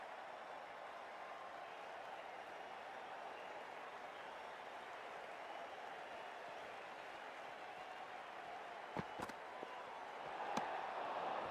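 Stadium crowd in the cricket video game Cricket 24, a faint, steady hum of distant crowd noise with a few sharp knocks and a brief rise near the end.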